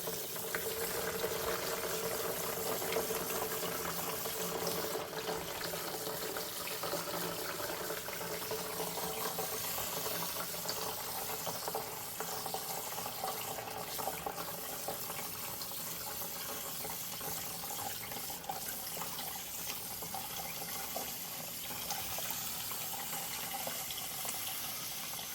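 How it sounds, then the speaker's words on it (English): Cold tap water runs steadily into a pot of rice being rinsed for green bean rice (loobia polo), a continuous even splashing hiss that stays close and unbroken throughout, with no talking. "we are going to turn on some cold water and just rinse it down"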